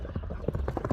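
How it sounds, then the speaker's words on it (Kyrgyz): Racehorse hooves galloping at a Kyrgyz horse race, a quick run of loud, close, rhythmic clip-clop beats with faint crowd voices behind. "Күлүктүгүн көрдүңүздөр, учат экен ат жаныбар."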